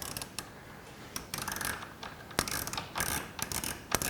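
A torque wrench set to 75 inch-pounds ratchets a bolt tight while cylinder head guards are fitted to a 2018 BMW R1200GS Adventure, giving close, irregular bursts of quick metallic clicks with short pauses between strokes.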